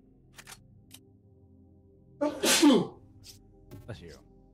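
A single loud sneeze bursts out over a quiet game-audio background, followed by brief talking.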